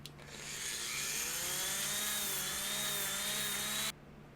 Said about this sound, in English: I'm just going to do a little bit of cleaning with my stone bit.